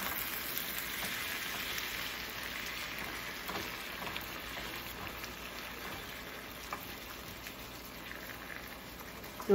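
Prawns and pumpkin greens cook in a pan, giving a soft, steady sizzle and crackle with faint scraping as they are stirred, low and continuous throughout.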